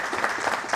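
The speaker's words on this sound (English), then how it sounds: "Give them a big round of applause" An audience at an inaugural session of a manufacturers and exporters summit in Pune claps together, a dense, steady patter of applause heard alone.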